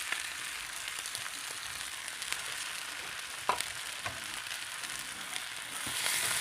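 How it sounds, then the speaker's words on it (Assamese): Boiled Maggi noodles frying in a pan, a steady sizzling hiss with faint scraping and stirring clicks, continuous and moderately quiet, no talk. "আৰু মেগী বইল কৰি থোৱা ঢালি দিলোঁ।"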